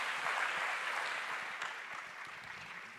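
Audience applause for panelists at a national conference on the constitution, a dense, steady round of clapping that fades slightly toward the end, with no voices over it.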